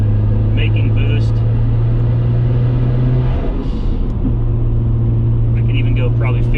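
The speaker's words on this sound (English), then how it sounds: "I can even go probably 5th gear up this hill and still hold it." A 500HP turbocharged Nissan Skyline GTR engine drones at a steady low pitch under load climbing a hill in fifth gear, with a brief dip midway before the hum resumes, constant road rumble throughout.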